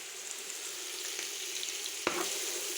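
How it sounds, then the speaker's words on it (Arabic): Meat stir-frying in a pot for kabsa, a steady soft sizzle throughout with a brief clink of stirring near the end, no talk. "شوح اللحم على مود يطلع طعمه يعني حلو"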